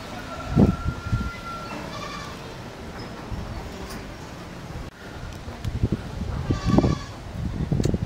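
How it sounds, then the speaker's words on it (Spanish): Dairy goats for sale on a farm in Chalchuapa, El Salvador bleat in short bursts, at moderate distance, amid rustling and outdoor wind, with some speech nearby. "Esta es la siguiente cabra"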